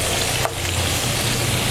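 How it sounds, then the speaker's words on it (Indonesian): Pindang tongkol (tuna) fish frying in hot oil in a pan, a loud, steady, dense sizzle and crackle heard up close without pause. "Goreng ikannya nggak usah kelamaan supaya nggak jadi keras."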